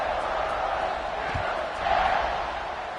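Football stadium crowd at an SMU game roaring steadily after a scoring drive, a broad sustained wash of cheering with a slight swell near the end.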